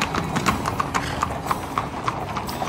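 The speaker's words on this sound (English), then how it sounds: "You've got to see the Wild Horse Drive down Main Street." Horses clip-clopping through the Wild Horse Drive down Main Street in Montana, a steady run of hoof strikes on pavement with a faint whinny over a busy crowd background.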